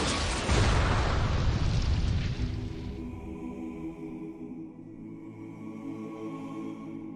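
A huge explosion rumbles with a dense, loud, broadband blast in the first seconds, then dies away into a low, droning tail with lingering tones and no talk.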